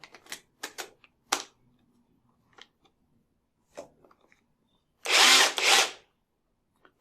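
A Makita cordless drill whirs in several short bursts of varying length, with a longer, louder run near the end, close up with quiet gaps between.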